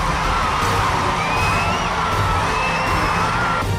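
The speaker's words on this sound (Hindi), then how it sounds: "ट्रेलर देखकर फैंस ने इतना शोर मचाया कि ट्रेलर की आवाज ही दब गई।" A cinema hall full of fans erupts in continuous loud shouting, whooping and cheering at a film trailer, the roar sustained throughout with shrill whistles cutting through above the crowd.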